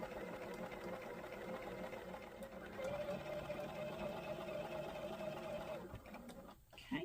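A sewing machine stitches at a slow, steady pace over the thick seams of a quilted wall hanging, a close, continuous motor hum with a faint rhythmic needle tick, briefly halting near the end.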